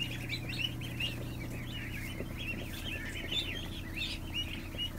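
A crowd of ducklings on an indoor floor, peeping steadily and continuously over a constant low hum, many overlapping high chirps at moderate loudness.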